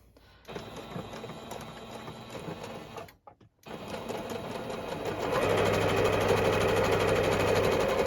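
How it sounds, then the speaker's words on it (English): Sewing machine stitching a seam down one side of a folded fabric triangle for bunting, a steady mechanical whir that briefly cuts out, then resumes louder and faster. "And then you're just gonna sew down one side."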